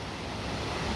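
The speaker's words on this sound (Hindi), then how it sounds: "और इस पानी का शोर, वाओ" Torc Waterfall in Killarney, Ireland sends up a dense, steady roar of rushing water, loud and close, with no voices over it.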